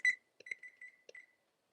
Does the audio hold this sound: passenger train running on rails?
no